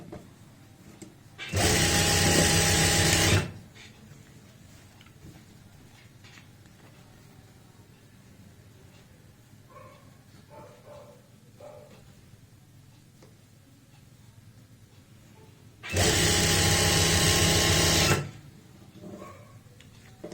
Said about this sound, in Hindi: सेम इसी तरीके से फोल्ड लगाते हुए यहाँ पे स्टिचिंग करेंगे